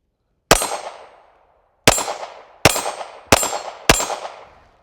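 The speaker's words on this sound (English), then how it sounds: "I'm going to fire a few rounds, and each round I'm going to put a little bit more effort back into the gun" Five sharp pistol shots ring out, one alone and then four in a quicker, steady string, each a loud, close crack with a bright metallic ring that fades out before the next.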